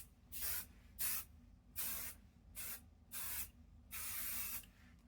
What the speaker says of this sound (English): It's a pretty light mist that you use, but I'm going to mist it over this whole exposed batting area here.